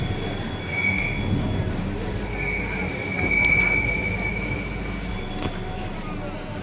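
A Palembang LRT train rounds a curving, sloping elevated track toward Demang Lebar Daun station, its wheels squealing in long high-pitched tones over a steady rolling rumble heard from inside the car.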